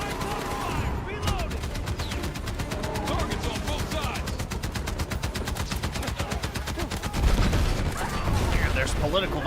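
Rapid automatic gunfire from the Battlefield video game, dense rattling bursts that run almost continuously with a heavier blast near the end, while voices talk over the shooting.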